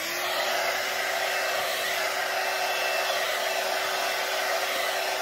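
A hair dryer with a brush attachment runs steadily while styling hair for lift at the front, a continuous close, loud whirring airflow with a faint steady hum, no voices.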